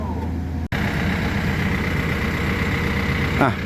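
A tractor hauling large concrete barriers on a washed-out road beside the Nan River runs with a steady, close, low engine drone, with a brief dropout near the start and a faint chirp near the end.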